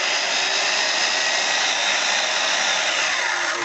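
A new bandsaw runs at speed setting 5, giving a steady close whirring hum with a bright airy hiss, constant in level throughout with no talking.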